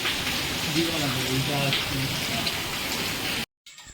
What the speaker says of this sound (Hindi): देखना गाइस अभी कितनी तेज हो रही है बारिश